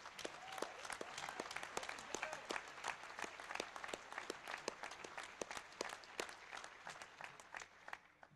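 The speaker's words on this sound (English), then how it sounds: "So let's give those guys a huge round of applause." A large conference crowd at a Defcon award ceremony applauds the CTF organizers, with a sustained, fairly faint and distant roar of many clapping hands lasting several seconds and a faint murmur beneath.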